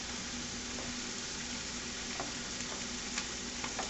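Noodles are stirred around a pot with a utensil, with faint scrapes and light knocks scattered over a soft, constant hiss of simmering liquid; the sound is fairly quiet and no one speaks.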